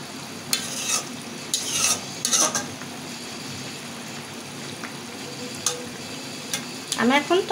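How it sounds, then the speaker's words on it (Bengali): Pieces of puti fish and radish in a spiced curry sizzle softly in a pan while a spoon scrapes and stirs in several short bursts, growing busier toward the end. "আমি এখন একটু ভাজা জিরের গুঁড়ি দেব, একটু ধনের পাতা দিয়ে দেব।"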